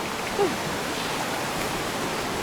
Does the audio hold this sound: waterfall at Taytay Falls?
yes